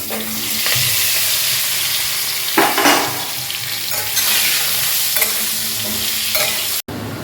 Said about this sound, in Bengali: চলো এবার তেলে আলুগুলোকে দিয়ে দিলাম